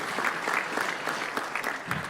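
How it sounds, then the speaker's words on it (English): Steady applause from an expo crowd, a dense wash of clapping hands that holds at an even level for a couple of seconds. "Round of applause."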